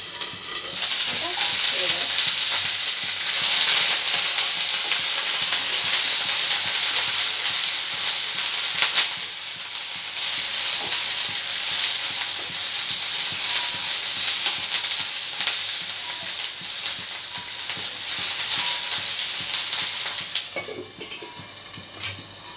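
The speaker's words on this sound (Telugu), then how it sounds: "కరివేపాకు పల్లీలు పచ్చిమిరపకాయలు మూడు వేగుతున్నాయి" Curry leaves, peanuts and green chillies frying in oil for an ivy gourd and tomato chutney, a loud, continuous sizzle with faint crackles, steady and close throughout and tapering slightly at the end.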